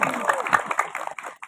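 An audience at a Maulid Nabi religious gathering claps in a short burst of scattered applause, moderately loud and close, fading out after a second with a voice briefly mixed in.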